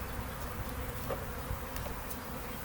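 A steady, droning buzz of many honey bees during a package installation, fairly close and continuous, with faint rustling beneath and no speech.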